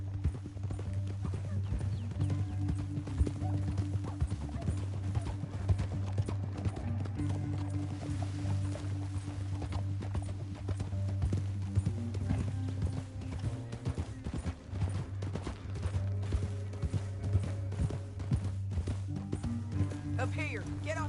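Steady clip-clop of horse hooves at a walking pace in Red Dead Redemption 2, with a low musical drone and voices talking over it.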